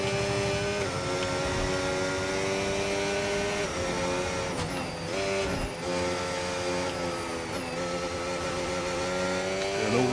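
Formula 1 race car in the F1 25 video game, engine screaming at high pitch with steady revs, brief gear-change dips and shifts, loud and continuous throughout with no talk.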